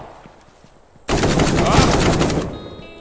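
Rapid automatic gunfire in an indie Uncharted-style video game, a loud, close burst of about a second and a half that starts abruptly after a quiet moment, then trails off.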